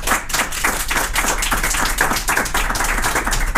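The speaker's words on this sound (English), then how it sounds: "we'll do that by a round of applause." An audience at a youth town council question-time event gives a round of applause, steady dense clapping from many hands filling the room for a few seconds with no talk over it.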